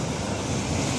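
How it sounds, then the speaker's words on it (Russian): Stormy sea surf rolls onto a beach, a steady, close wash of waves mixed with wind buffeting the microphone. No voices are heard. "Их окатывает иногда волна"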